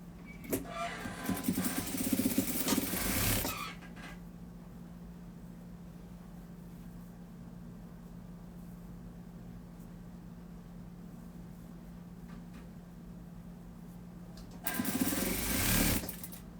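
A sewing machine stitching the hem of a blouse, with loud bursts of fast mechanical whirring at the start and end, close up, and a quieter steady hum between them.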